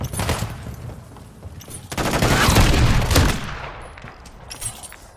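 A sentry gun firing during a video game match, heard as a near, dense burst of rapid gunfire that swells in the middle and tapers off, with scattered shots before and after.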